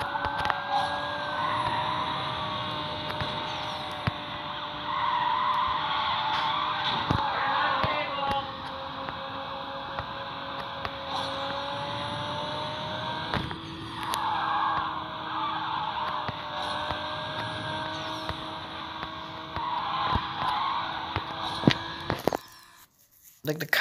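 A fast car races in the video game Need for Speed No Limits, its engine whining steadily and climbing in pitch through repeated gear shifts before cutting off abruptly at the end.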